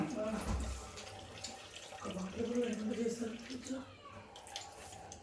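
Water gushes steadily from a hand pump being worked for a bath, a continuous splashing flow with people talking faintly underneath.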